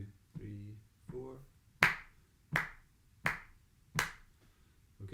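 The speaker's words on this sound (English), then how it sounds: "We'll clap it together after 4." Hands clap crotchet beats, five sharp evenly spaced claps about three quarters of a second apart, close and crisp, following a short spoken count.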